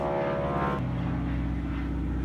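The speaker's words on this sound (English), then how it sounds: "I don't know if you guys are picking up that helicopter on the microphone" A helicopter drones overhead, a continuous low rumbling whir that shifts pitch slightly as it passes, with no voices present.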